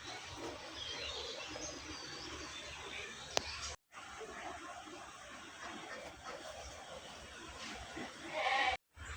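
Goats kept indoors in a shed with cattle bleat faintly amid low room noise, with a brief louder cry near the end.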